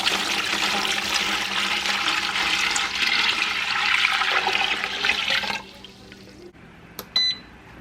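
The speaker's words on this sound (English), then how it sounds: "let me just get some water in here" Tap water gushes steadily into a large metal canning pot for about five seconds, then shuts off, leaving a quiet room with a few small clinks and a brief high beep near the end.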